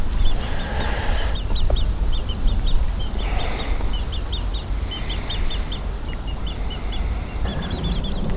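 Ducks gather around a fishing spot on a canal, giving a steady run of quacking and clucking calls close by over a constant outdoor background hiss.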